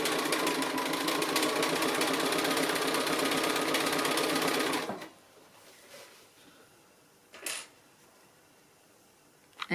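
A sewing machine with dual feed engaged stitches through quilt-as-you-go block layers at a quarter-inch seam, running steadily and loudly for about five seconds, then stopping, leaving a quiet room with a couple of brief handling clicks.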